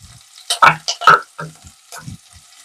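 Cashews, onions and a couple of green chilies fry in a pan, giving short close bursts of sizzling and stirring scrapes separated by quieter gaps.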